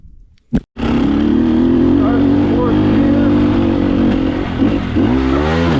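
Sherco SEF300 four-stroke dirt bike under way after a brief sharp knock, the engine droning steadily close by with rising and falling revs near the end, while a rider's voice comes through over the motor.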